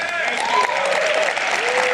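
Steady applause from an audience at a Trump speech, a dense continuous patter of clapping with crowd murmur mixed in, holding at an even level throughout.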